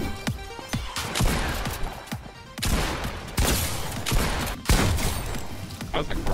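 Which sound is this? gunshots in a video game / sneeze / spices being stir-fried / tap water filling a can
gunshots in a video game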